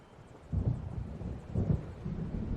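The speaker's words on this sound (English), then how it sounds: "It seems there's a storm coming." An approaching thunderstorm in the game Alan Wake Remastered, rendered as low, distant rolling thunder that swells twice over a quiet windy background with no voices.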